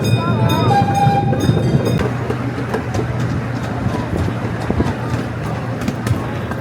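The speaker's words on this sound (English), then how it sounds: "I had no idea how long this train ride was." A miniature park train rolls along through City Park, a steady rumble and rattle of small cars on track with a faint whistle tone early on, loud and close, with people talking over it.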